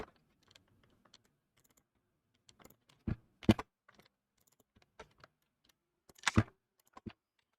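Computer keyboard typing while writing Go code, sparse soft key taps with a few louder clustered clacks, close and quiet in an otherwise silent room.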